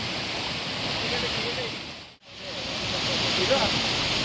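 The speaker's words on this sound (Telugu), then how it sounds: "ఇక్కడ వాటర్ ఫాల్స్ అయితే ఏడు పడింది మొత్తానికి" A waterfall pours steadily in the Sileru forest after a day of heavy rain, a dense, continuous rushing roar that drops out briefly midway. Faint voices are mixed into the noise.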